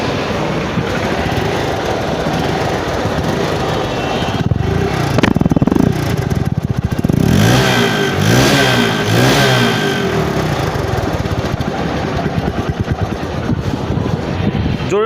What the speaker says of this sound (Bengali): এখন বাইকগুলোর সাউন্ডে যদি আসি, মানে খুব সুন্দর লাগতেছে